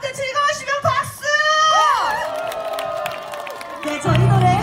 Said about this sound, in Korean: 여러분들 즐거우시면 박수!